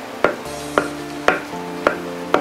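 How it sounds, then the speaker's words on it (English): A traditional Amis craftsman chops wood, landing five sharp, evenly spaced blows about half a second apart, close and clear with no talking. "I already hear the sound of chopping wood."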